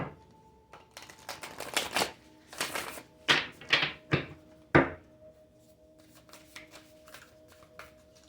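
Starseed Oracle cards riffled and shuffled by hand in a quiet room, a run of crisp bursts of flapping card noise, some longer and louder, then softer taps and shuffles near the end, with no talking.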